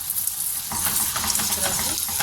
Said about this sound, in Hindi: अब इसके अंदर मैंने इस तरह से ये अंडे डाल देंगे।